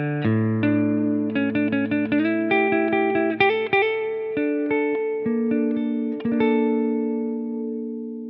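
Electric guitar played through an MXR reverb pedal: a quick run of picked notes and chords rings out and trails off into a long reverberant decay. Close and clear, with no talking.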